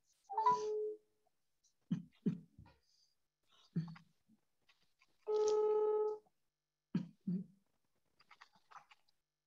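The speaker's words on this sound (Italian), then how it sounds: "E Paolo, ti sto chiamando al telefono e ti metto in viva voce." A telephone being dialed on speakerphone, with scattered tone bursts, two longer sustained tones and clicks separated by quiet gaps, plus faint whispery voices.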